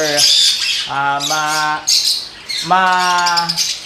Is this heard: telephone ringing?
no